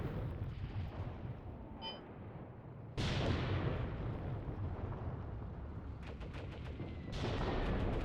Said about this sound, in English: Mortars are impacting here.